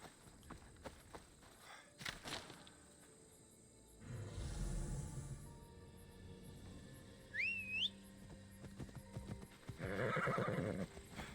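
A horse in Assassin's Creed Odyssey whinnies loudly over soft hoof clops and ambient rustling, followed by another snorting neigh; a short whistle-like tone sounds in between.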